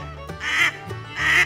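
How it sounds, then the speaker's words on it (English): Two loud, close duck quacks or honks, each a broad nasal call with a brief gap between them, against a low steady background hum. "He's quacking for us."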